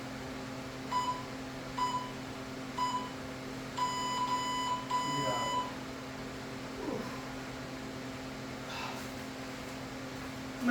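A workout interval timer in a home garage gym gives a series of short electronic beeps, spaced about a second apart and then a longer run, over a steady background hum, with a brief spoken word.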